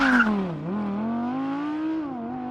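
A car launches hard under launch control, its engine note rising and dipping in a strained, steady drone with a sharp squeal at the very start, close and fairly loud.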